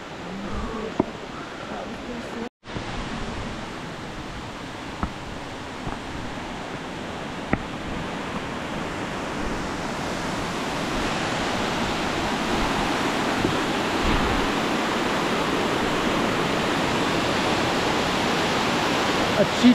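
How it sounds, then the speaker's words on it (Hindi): Waterfall on a hiking trail in Azerbaijan, a steady broad rushing roar that grows slightly louder over time, with a few brief clicks and faint people in the background. "ये पहला वाटरफॉल है"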